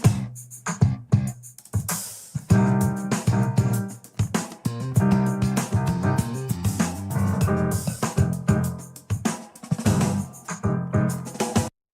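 AI-generated SUNO music built from a Yamaha DGX 670 keyboard performance, a full dense arrangement with steady rhythm and layered melody playing loud and continuous, with no talking, before cutting off at the end.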